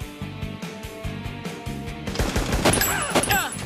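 Bursts of video game gunfire from GoldenEye's James Bond shooter, rapid repeated shots over steady music, growing denser and louder toward the end.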